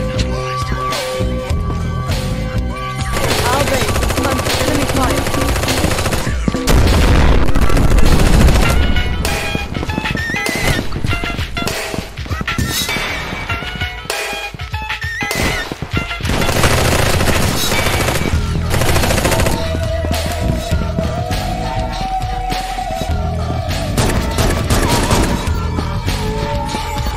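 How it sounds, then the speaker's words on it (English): Sustained automatic gunfire and bursts during an enemy attack on a base in the video game Eximius, loud and dense throughout with occasional booms and crashes layered over a game soundtrack. "Our base is under enemy fire."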